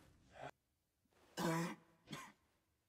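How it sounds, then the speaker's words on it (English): Three rough coughs and throat-clears in a quiet room, close up, with short pauses between them. "Why are you coughing?"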